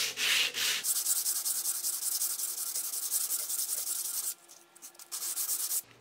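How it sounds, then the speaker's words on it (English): A homemade sanding stick with 320 grit paper rubs the edges of a silver ring, producing a steady, close, hissing scrape that briefly eases off before resuming. "I'm just going to use a sanding stick that I made."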